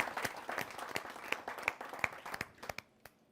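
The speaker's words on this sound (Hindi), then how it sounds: "तो एक बार जरा जोरदार तालियों के साथ स्वागत करें डॉक्टर अर्जुन सिसोदिया" An audience at a poetry recitation applauds to welcome the poet Dr. Arjun Sisodiya, a dense burst of many hands clapping that thins out toward the end, with a few louder individual claps standing out.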